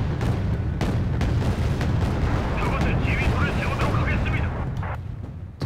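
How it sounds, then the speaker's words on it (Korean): Artillery blasts and explosions boom repeatedly in the Wargame: Red Dragon battle during a 1992 Korean War campaign, dense and rumbling, while someone comments over the gunfire. "아이고 저게 터졌다"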